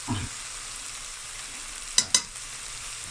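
Turmeric and chili powder sauté in hot oil for a Jaffna-style fish curry, a soft steady sizzle with a couple of sharp clicks of a spoon scraping the pan near the end.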